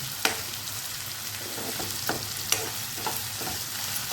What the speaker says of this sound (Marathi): कांदा करून त्याला व्यवस्थित आपण परतून घेऊया